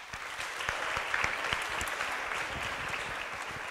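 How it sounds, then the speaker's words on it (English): Sustained applause from an audience at a school closing ceremony, many hands clapping steadily and densely throughout with no pauses. "Please give a round of applause."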